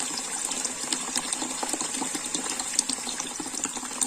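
Water rushes steadily through a home radiator being flushed clean, a continuous gushing, tap-like flow with small sputters, close and fairly even for the whole stretch, no voices.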